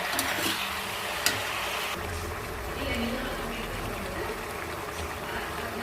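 Pepper chicken fries in a pan, giving off a steady sizzle and bubbling as its own juices cook down, with a few sharp clinks of stirring near the start.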